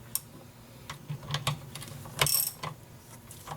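A hand ratchet snugs up the bolts on a Corvair oil cooler adapter during a gasket replacement, giving close, uneven clicking and metallic ticks in short bursts.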